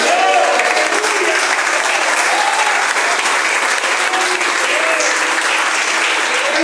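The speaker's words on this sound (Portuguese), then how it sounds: "Quem pode aplaudir a Deus?" A church congregation breaks into sustained, loud applause that holds steady throughout, a dense wash of many hands clapping together with no break.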